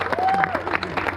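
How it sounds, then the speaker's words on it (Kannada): Applause from an audience at a gathering, honouring invited guests: a sustained burst of crowd clapping with a thin whistle-like tone passing through and some background voices. "ಅವ್ರಿಗೆ ಮತ್ತೊಮ್ಮೆ ಜೋರ ಚಪ್ಪಾಳೆ ಕೊಡಬೇಕು"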